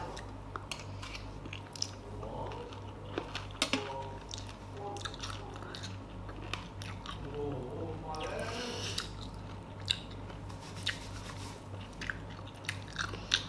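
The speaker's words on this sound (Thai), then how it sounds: "เวลาเคี้ยวไปแล้วมันจะแบบเสียงมันจะกึดกึดกึดกึด" Crunchy chewing of long beans in a spicy blue crab and lotus stem salad, close up, with repeated bites and wet squishing under a steady background hum.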